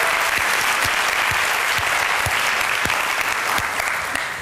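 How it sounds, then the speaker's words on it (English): Sustained applause from an audience at a women-in-leadership conference, cheering the Cal women's basketball team; dense, steady clapping fills the room throughout and tapers slightly at the end. "Let's give it a round of applause."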